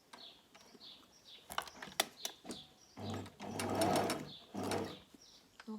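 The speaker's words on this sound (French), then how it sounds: "je vais coudre mes 2 petits élastiques qui sont bien sûr à l'intérieur de l'espèce de filtre à café" A sewing machine stitches elastic into a fabric face mask, running in short rhythmic bursts of rapid mechanical clatter, close and moderately quiet, with small clicks between runs.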